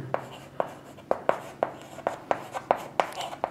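Pen strokes scratch across paper in a steady run of about ten short, crisp taps and scrapes spaced roughly a third of a second apart, close and clear with no talking.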